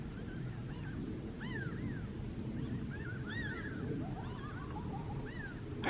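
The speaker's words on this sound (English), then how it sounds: "Can you hear the coyotes through the crows?" Distant coyotes yip and howl in rising, wavering bursts over a low, constant outdoor rumble at a Grand Canyon campsite in the morning, with crows around.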